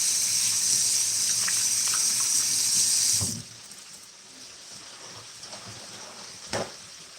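Running tap water rinses hands in a home kitchen during brunch preparation, a loud steady hiss for about three seconds that stops abruptly, leaving quiet room sounds and a few small knocks.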